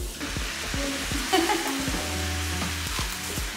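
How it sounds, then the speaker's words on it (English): Lettuce being washed under running water in a home kitchen: a steady hiss of flowing water with soft, repeated thumps and splashes as the leaves are handled. "See, I'm washing lettuce."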